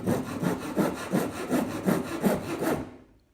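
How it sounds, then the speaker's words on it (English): A rasp scrapes wood to shape a CO2 dragster body, eight even rhythmic up-and-down strokes, close and fairly loud, before the rasping stops abruptly. "This is a rasp."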